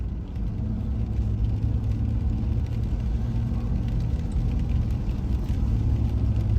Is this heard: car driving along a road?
yes